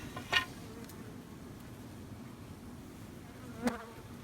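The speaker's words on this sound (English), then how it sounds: "Definitely a lot of bees in this shed." Bees in a winter storage shed give a faint, low buzzing drone, with two brief louder bursts near the start and end as insects fly close, no speech.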